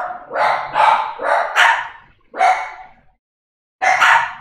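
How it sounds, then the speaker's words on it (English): A dog barks loudly and close by in a quick run of sharp barks, then pauses and lets out two more separate barks, with no talking over it. "Dog's on full alert."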